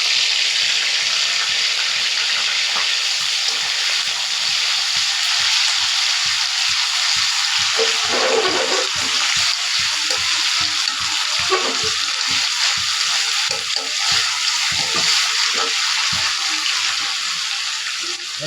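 Green chili and onion paste frying in hot oil, a steady loud sizzle with bursts of crackling and spattering, close up and continuous with no talking.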